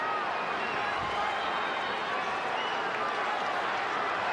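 Boxing arena crowd at the Oscar De La Hoya versus Shane Mosley fight sends up a continuous murmuring roar with scattered clapping, fairly distant and steady, with no sharp peaks.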